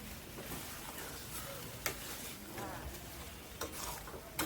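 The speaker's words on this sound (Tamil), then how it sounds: "நல்லா ஸ்டவ் ஸ்லோவாக வச்சு நல்லா கறி வதக்கிடணும்" Meat sautéing in a pan on low heat for a curry, a soft continuous sizzle with occasional sharp ticks of a spoon stirring against the pan, faint and close.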